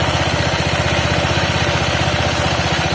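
A Honda PCX 160 scooter idles up close with a steady rhythmic whirring and rattling from its CVT drive belt, even and continuous throughout.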